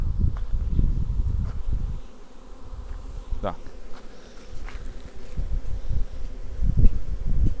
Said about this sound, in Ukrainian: бджоли заходять, виходять в новий вулик